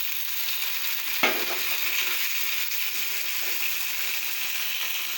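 Tomato pieces hit a hot pan of simmering fish curry with a sharp splash, then a steady, fairly close sizzle and bubbling of frying carries on throughout, with faint stirring and no talk.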